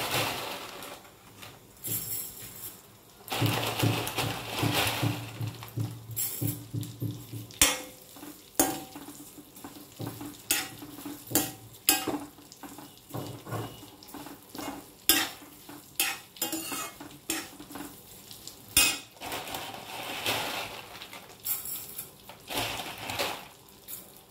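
Semiya vermicelli being fried in a pan with cashews for jaggery payasam: steady scraping and stirring strokes against the pan over a soft sizzle, repeated in an uneven rhythm up close.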